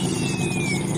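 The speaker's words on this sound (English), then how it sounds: "Please you see the performance of the V12 model engine." A model V12 engine runs steadily, a dense continuous buzzing drone at constant loudness with a faint high whine sliding slightly downward, no voices.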